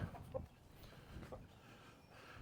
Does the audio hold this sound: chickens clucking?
yes